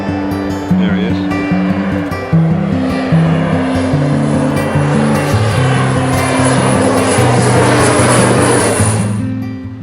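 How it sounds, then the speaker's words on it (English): An aeroplane passes low over town near Broome airport, a loud, sustained roar of engines that builds and holds, with a high whine, then fades sharply at the end while music and narration run underneath. "When the wind is right, aeroplanes land almost right up the street."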